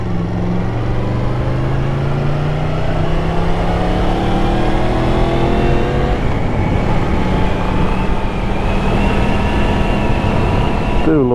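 A Yamaha MT10 SP motorcycle roars steadily while being ridden on open roads, its engine note climbing and shifting as it changes speed. The sound is loud and close, with constant wind rush around it.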